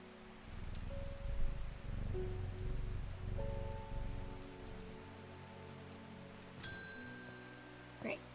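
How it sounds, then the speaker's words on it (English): Steady rain falls throughout a scene in the video game Strange Horticulture, a soft continuous patter with a faint low musical tone underneath and a couple of brief chime-like accents near the end. "It's raining again."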